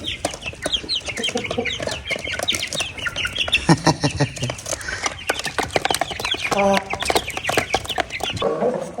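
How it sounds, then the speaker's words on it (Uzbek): Several roosters cluck and call close by in a busy, overlapping chatter, with a few louder squawks breaking through. "Yetti begona xo'roz. Umrga ko'rmagan xo'roz."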